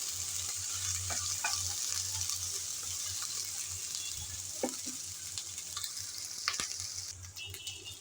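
Ginger, garlic and onion frying in a pan with oil for a papaya curry: a steady close sizzle with occasional stirring clicks and scrapes, a low hum underneath, no one talking.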